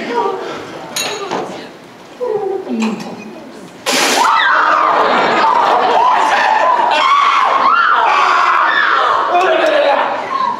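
A woman screams on stage in a high school mystery play, a long, loud, piercing cry that begins abruptly partway through and carries on over stage voices and audience noise heard before it.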